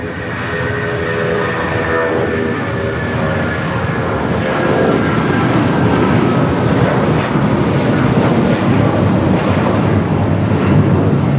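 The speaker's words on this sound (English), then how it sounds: "1591 taking off to Houston Intercontinental on the 757-200" A United Airlines Boeing 757-200 takes off at LAX on a flight bound for Houston Intercontinental. Its engines roar loud and steady the whole time, with broadband jet noise that swells slightly midway and no voices.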